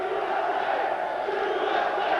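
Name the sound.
crowd chanting USA at MMA fight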